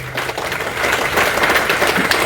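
Audience applause at a training seminar in Calicut, a dense burst of clapping that swells and holds steady for a couple of seconds with no talk.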